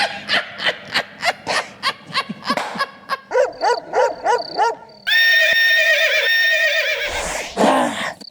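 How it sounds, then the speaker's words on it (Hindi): An Arabian horse neighs and whinnies in a run of loud, close calls, with barking-like bursts early on and a long sustained whinny near the end. "घोड़ा है ना, अरबी घोड़ा।"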